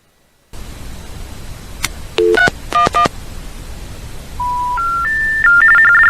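DTMF tones dialed on a Northern Telecom Centurion pay phone: a few short, clear beeps, then longer steady tones that step upward in pitch, loud over a constant line hiss.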